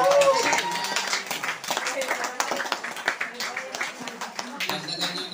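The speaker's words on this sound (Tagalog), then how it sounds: "Dagdagan nyo na masayang palakpak." Church congregation clapping joyfully during a service, a quick patter of claps throughout, mixed with voices.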